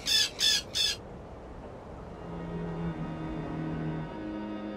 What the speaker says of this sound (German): Oh, armer Papagei.